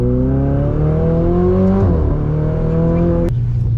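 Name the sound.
Ferrari 488 Spider engine revving in town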